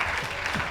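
A short burst of audience applause at a political gathering, a dense wash of many hands clapping heard alone.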